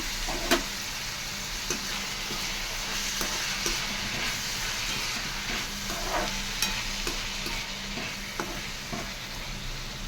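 Ivy gourd fry is stirred in a pan with turmeric and salt, giving a steady sizzle under repeated scraping and stirring strokes at close range, with no voice.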